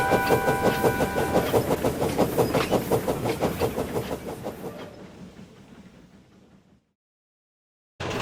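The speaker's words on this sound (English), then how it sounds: "he pulled his train out of the station" A train pulling out of a station, its wheels clacking in a rapid regular rhythm, loud at first and fading as it moves away, ending in silence.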